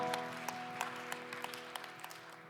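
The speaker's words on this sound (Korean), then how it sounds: "박수로 서로의 삶을 응원하며 축복합니다." A church youth congregation at a Sunday worship service claps in a soft, fairly regular rhythm over sustained keyboard tones, the sound faint and distant.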